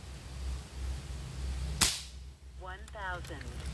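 A single sharp airgun shot cracks close by partway through, fired through a chronograph on a test range, followed moments later by a short burst of talk over low background hum.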